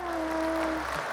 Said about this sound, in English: Everybody, give her biggest applause